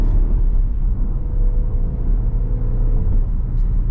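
A 2020 Jeep Grand Cherokee Limited engine heard from inside, a loud, steady low rumble with a slight hum and no obvious revving across a few seconds.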